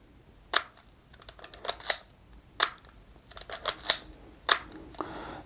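A Leica M6 film camera shutter fired at a fast speed, giving three sharp clicks at roughly two-second intervals, each followed by fainter mechanical ratchets of the advance lever, close and clear in a quiet room.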